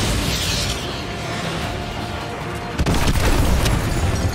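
A guided AGM missile strikes in a Call of Duty: Modern Warfare 2 Remastered campaign mission, landing as a sudden heavy boom partway through and followed by a loud rumbling roar over steady battle noise.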